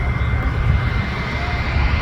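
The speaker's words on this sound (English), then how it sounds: "We got a plane right there now." Airplane at Montréal Trudeau Airport, heard from a walkway outside: a steady, loud broadband engine roar with constant low rumble and no breaks, close and continuous.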